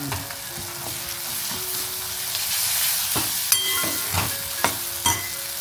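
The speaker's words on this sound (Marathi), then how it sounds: "फोडणी बघा कसं तेल सुटते ना," Ground onion paste fries in hot oil for a tempering in a Konkan village kitchen, a steady close sizzle broken by a few sharp stirring scrapes and clicks near the end.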